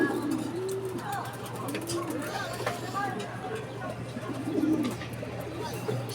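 Racing pigeons coo in soft, low repeated phrases at a loft in Sto. Tomas, Batangas, with scattered chirps and a steady hum, while people talk in the background.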